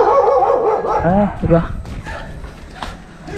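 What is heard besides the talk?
dog barking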